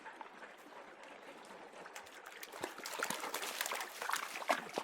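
A dog swims and splashes in a creek, with irregular near paddling and sloshing over a steady trickle of running water, growing busier toward the end.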